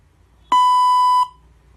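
A robotic language translator gives one loud electronic beep, a clean steady tone lasting under a second, with quiet before and after.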